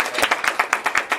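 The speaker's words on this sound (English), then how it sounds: "Fiona Clift, a big round of applause." Audience at a theatre practitioners' talk claps, the sound close and fairly loud, with a few distinct regular claps standing out from the group.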